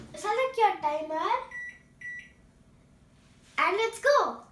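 A microwave oven's keypad gives two short, high electronic beeps as its timer is set, coming between stretches of someone talking nearby.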